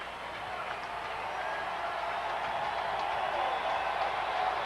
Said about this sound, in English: And the crowd comes alive.